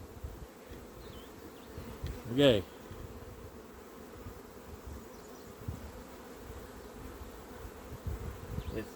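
Honeybees buzz in a soft, steady drone around a feeding patty outdoors on a warm day. A person says a word briefly in the middle.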